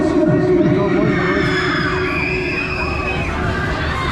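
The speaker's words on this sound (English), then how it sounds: "Somebody scream!" Crowd of riders screaming and shouting on a funfair ride, a loud continuous mass of voices with rising shrieks and the rumble of the ride underneath.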